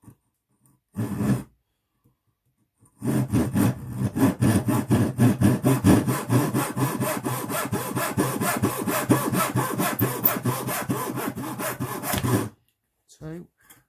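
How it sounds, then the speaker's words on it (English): Hand saw cutting wood for a finger joint: one short stroke, a pause, then a long run of quick, rhythmic rasping strokes at close range that stops abruptly, followed by a brief scrape. "And then we'll cut the next piece of wood."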